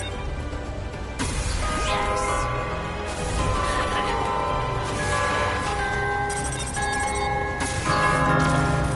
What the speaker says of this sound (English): Only a few bells remain.